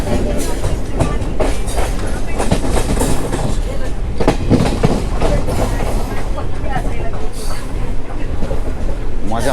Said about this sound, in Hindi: ट्रैक साउंड आता रहता है।